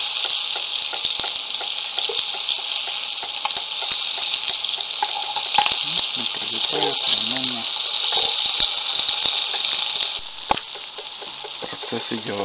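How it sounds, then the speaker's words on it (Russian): Loud, steady sizzling and crackling of small fish frying in oil in a pan outdoors, with occasional stirring and a voice talking faintly underneath. "Жарим семечки. Так называю я мелкую рыбу."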